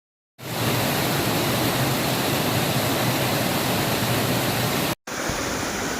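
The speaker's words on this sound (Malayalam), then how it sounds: "ചെറു വെള്ളച്ചാട്ടങ്ങൾ" Steady roar of small waterfalls at Kodangad near Kondotty, broadband rushing water close by and continuous, with a brief cut near the end.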